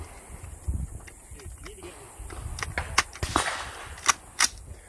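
Sharp gunshots ring out at a shooting competition, with a few loud cracks spaced apart toward the end and quieter bangs before them amid outdoor range noise.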